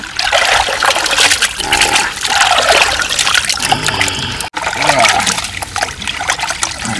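A large 14 kg musho shankar fish being washed with water, a continuous loud splashing and trickling stream close by, with people talking over it.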